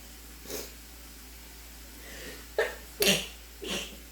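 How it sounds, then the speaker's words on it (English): A few sharp bursts of sneezing, close by, set off by smoke and peppers while cooking, one faint then three stronger ones spaced apart in quick succession near the end. "the smoke in the house is making me sneeze"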